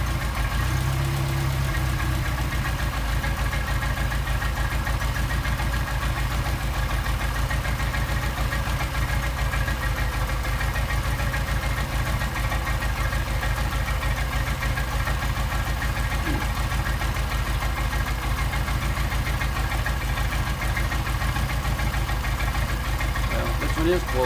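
Engine running steadily with a Solex carburetor being adjusted, a continuous close mechanical drone with a regular knocking pulse and no clear change across the stretch; someone talks over it at times.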